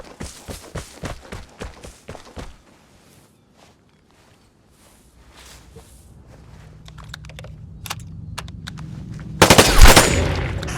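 M4A1 rifle fire in the Vigor shooter game: a rapid burst of close, sharp shots at the start, then quiet with a low rumble building and a loud blast near the end.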